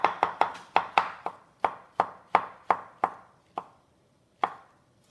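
A knife chops shiitake mushrooms on a cutting board in about fourteen crisp, close knocks. The strokes come quickly at first, then space out, and the last few are slower and separated by pauses.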